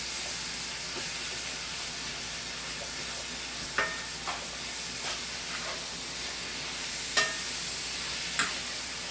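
Food cooking for lasagna sizzles steadily in a pan while a spoon stirs it. A continuous hiss runs throughout, broken by a few sharp scraping clicks, all close up with no talking.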